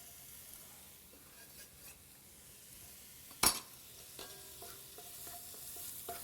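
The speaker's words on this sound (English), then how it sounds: "Oh, that's the sizzle that I'm looking for." Onion and garlic sizzling in a hot pan: a quiet, steady frying hiss, with one sharp clink of a utensil near the middle and a few light stirring taps afterward. No talking.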